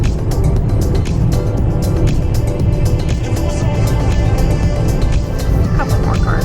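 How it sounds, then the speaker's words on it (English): Cars pass on a road near the Magic Kingdom gate at Disney World, giving a steady, fairly loud rush of tyres and engines heard from inside a moving vehicle, with people talking over it. "a couple more cars"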